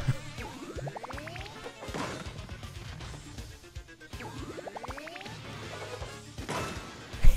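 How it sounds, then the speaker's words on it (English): A flashy hammer smashing an enemy in Paper Mario: The Origami King, two rounds of rising chimes each ending in a crashing impact, amid other game effects and music. "we get to hit him again with a flashy hammer"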